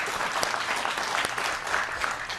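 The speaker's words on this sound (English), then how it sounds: "That always deserves applause." Audience applause at a high school quiz competition, a short burst of dense, close clapping from a room of people, steady with a few sharper individual claps.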